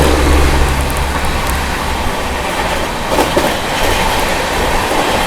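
The Sampoorna Kranti Express rumbles past at speed as it overtakes the Magadh Express, a loud, continuous roar with wheel clatter. A faint squeal rises near the middle of the pass.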